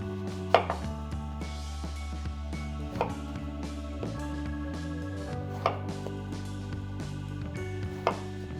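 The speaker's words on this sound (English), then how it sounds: "Next move, we're gonna cut them in half." A kitchen knife slices through vegetables on a cutting board with a few distinct, spaced thumps, quiet and close, over a steady low background hum with no talking.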